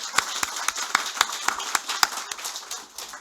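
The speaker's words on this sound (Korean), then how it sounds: "박수로 이렇게 환영하시기 바랍니다" A church congregation applauds in a welcome, with sparse, separate sharp claps spaced at a steady rhythm, close and moderately loud.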